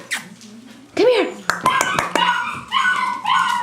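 Standard poodle puppies, eleven weeks old, yip and bark in a burst of several sharp, close calls with whimpering in between, loud and right by the listener.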